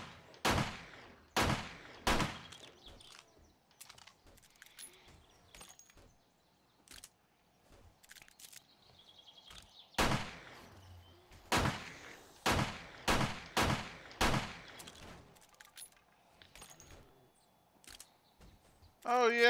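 Gunfire in the video game 7 Days To Die: sharp loud shots come singly and in quick clusters, separated by quieter gaps and faint game ambience.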